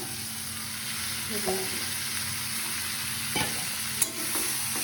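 Mutton pieces frying in a pan for mutton kosha, a steady broad sizzle with a few soft stirring scrapes and one brief clink, close and moderately quiet.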